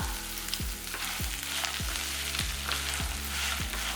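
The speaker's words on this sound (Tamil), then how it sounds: "இந்த தண்ணியெல்லாம் ஊற்ற வேண்டாம், இதுலேயே நல்லா வதக்கி எடுத்துக்கலாம்." Ingredients for chutney sizzle and fry in a pan close by, with steady crackling and a regular rhythm of stirring scrapes, no voices.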